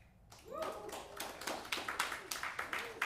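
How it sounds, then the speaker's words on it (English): A comedy club audience at Villain Theater claps along in a quick rhythmic burst, fairly close and building into steady, repeated hand claps. "Clap it up if you like Thanksgiving."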